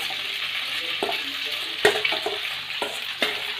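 Red and white sauce pasta (macaroni) stirred and sizzling in a pan, with a steady frying hiss and a few sharp spoon clacks against the pan.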